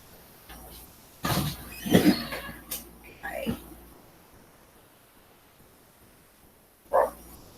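A dog barks a few times indoors, with sharp, clustered yelps early on and one more a few seconds later, mixed with door and household knocks.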